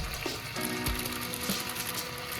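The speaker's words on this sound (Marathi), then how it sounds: "चिकन आपल्याला छान असं परतून घ्यायचं आहे 2 ते 3 मिनिटांसाठी" Chicken sautéing in a pan with black pepper and chicken masala gives a steady, close sizzle, joined by occasional scraping and clinking from stirring.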